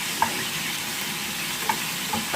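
A burger patty sizzles in its own fat in a pan, giving a steady close hiss with a few faint pops, alone and unbroken.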